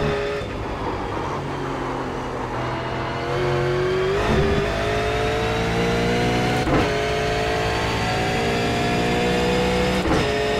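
V8 Supercar engine in the iRacing sim racing game, a steady engine note rising as it accelerates, with brief sharp gear changes or bumps recurring every couple of seconds and no talk.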